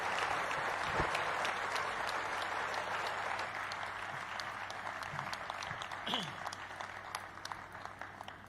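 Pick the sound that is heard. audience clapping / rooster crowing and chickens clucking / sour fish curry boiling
audience clapping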